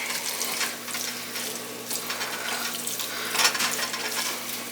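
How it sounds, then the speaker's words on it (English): Steady running water splashes into a cooking pot for several seconds at moderate volume, with a brief clink partway through. "I actually think I'm going to put in just a little bit more water."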